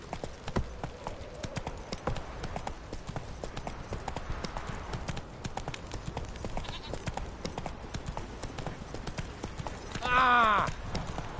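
Horse hooves clip-clop steadily in The Witcher 3 as the horse Roach trots along, a crisp rhythmic patter with a brief whinny near the end and a voice now and then.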